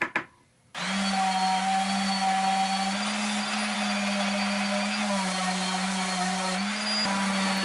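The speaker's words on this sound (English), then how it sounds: "I came back with the orbital sander and sanded them smooth" A handheld orbital sander runs steadily on a wooden standing desk, smoothing glued-in thin wood scraps; a loud, continuous motor whine and sanding hiss start abruptly after a brief quiet moment and hold close and constant.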